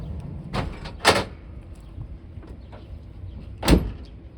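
Truck bed topper door on a Ford F250 shutting, two quick knocks then a louder thud a few seconds later, close by and with no talk.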